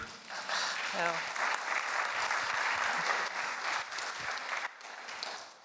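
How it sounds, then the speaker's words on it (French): An audience claps in sustained applause, a dense even patter that holds for several seconds before thinning out, with a brief voice heard near the start. "Et on l'applaudit"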